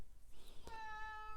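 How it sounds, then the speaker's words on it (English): Domestic cat meowing once, a faint, fairly close rising-and-falling cry near the end of a quiet room, preceded by a soft thump. "That's my cat, Tig."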